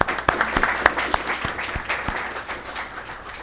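A meeting audience at a Garden Grove city council session claps in a brief burst of applause that starts strong and gradually thins out.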